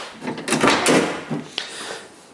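A 1969 Corvette roadster door clicks its latch and swings open with a hollow, metallic thud; a sharper click follows a moment later.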